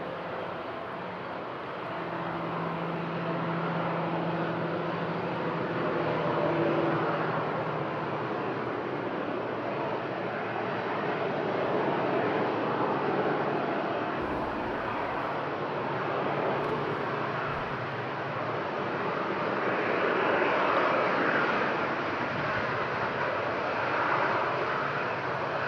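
A TUI aircraft takes off at windy Madeira Island Airport, a long sustained jet roar at moderate distance that rises and falls gently, with a tonal drone early on and no talk.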